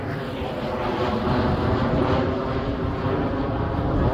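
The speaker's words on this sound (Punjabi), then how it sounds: "ਉੱਪਰ ਜਹਾਜ਼ ਦੀ ਆਵਾਜ਼" An airplane passes overhead on a quiet green country road among farm fields in Italy, a broad steady roar that swells slightly toward the middle and stays fairly loud throughout.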